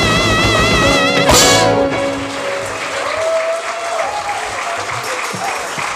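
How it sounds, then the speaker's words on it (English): Audience applause following a cultural drum performance at an annual general meeting opening ceremony, steady and sustained clapping from a large crowd throughout, with a brief sharp burst early on. "Give them a last round of applause."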